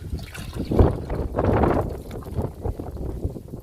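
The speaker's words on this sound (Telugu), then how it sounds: "బాగా గాలి వస్తుందండి, మళ్ళీ వర్షం పడేలా ఉంది" Strong wind gusting across an outdoor plant garden as clouds gather before rain, buffeting the microphone with loud, rumbling surges that rise and fall throughout.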